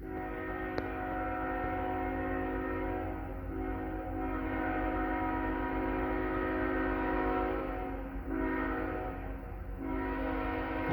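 A CSX freight train, Q361, sounds its multi-chime air horn through Liberty in long sustained blasts, loud and close, with brief dips between them as the train approaches.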